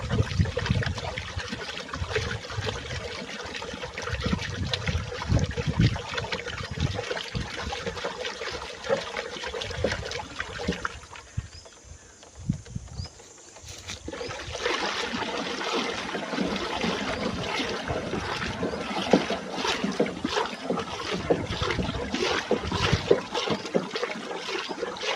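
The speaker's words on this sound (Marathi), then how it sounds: "पाण्याला भोवरा आलाय ना." Water swirls into a whirlpool as organic fertilizer is stirred in a tank, making a continuous loud gushing, churning rush that briefly drops to a softer trickle midway before surging again, with no voices.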